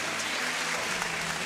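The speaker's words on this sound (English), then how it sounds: "Big hand for both fighters. Round of applause for both of the fighters." A crowd at a Thai Fight 2018 Muay Thai event applauds both fighters after a knockout, a dense, steady wash of clapping filling the arena for the whole moment.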